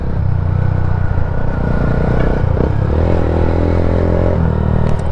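A Yamaha Sniper 150 motorcycle fitted with an open R6-style exhaust pipe revs loudly and close by, its steady rumbling drone rising in pitch through the second half before settling again.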